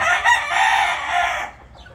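A rooster crows close and loud in one drawn-out call, with clucking from other chickens on a poultry farm; it cuts off and leaves quiet background.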